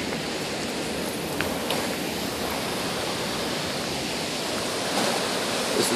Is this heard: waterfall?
yes